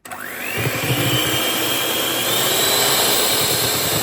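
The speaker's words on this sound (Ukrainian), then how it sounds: "Збиваємо міксером яйця і цукор." An electric hand mixer whirs loudly and steadily as it beats homemade eggs and sugar for a sponge cake. It spins up quickly, then holds a constant motor drone with beaters rattling against the bowl.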